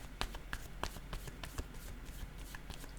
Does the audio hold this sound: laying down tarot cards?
yes